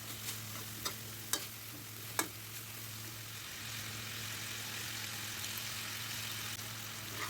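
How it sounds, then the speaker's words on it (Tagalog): Chicken sautés in a pan for pininyahang manok, giving a steady, soft sizzle beneath a low hum. A few sharp scrapes and clanks from the stirring utensil stand out near the start. "gisahin natin ng maigi ang manok"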